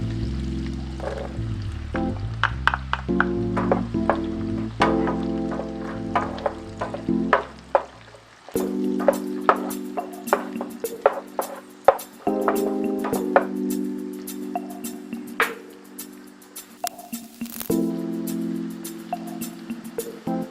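Onions added to garlic frying in a pan sizzle steadily, with frequent clinks and scrapes of stirring over a music bed throughout.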